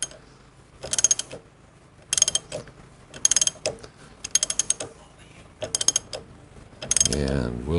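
A nut is tightened on a Harley-Davidson Panhead clutch with a ratchet, heard as six short bursts of rapid, crisp clicking separated by brief pauses. A different mechanical whir follows at the end.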